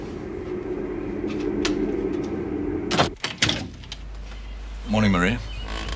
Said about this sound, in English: open the bleeding door.